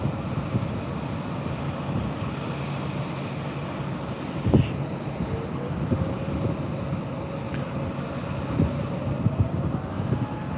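Aircraft at Heathrow Airport at night, heard from a terminal rooftop as a steady, broad jet roar that holds the whole time, with wind buffeting the microphone and a few faint distant tones over it.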